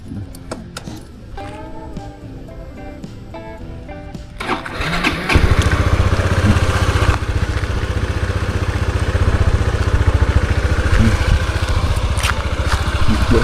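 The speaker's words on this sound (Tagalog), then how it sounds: "Lagi niyang pinapainit yung makina para hindi masira." Keys jingle and a starter cranks before an engine catches and settles into a loud, steady idle close by.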